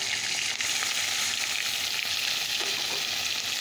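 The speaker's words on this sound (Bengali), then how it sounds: "তো চলো আগে একটুটুকু ভেজে নিই।" Fish fries in a hot pan, giving a loud, continuous sizzle and crackle that holds steady throughout with no talking.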